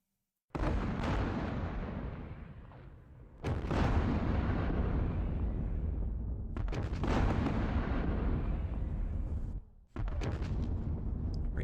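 Explosions boom in a Vietnam War video game set in the Battle of Hue, three heavy blasts each rumbling and slowly decaying, loud and close, with a fourth starting at the end.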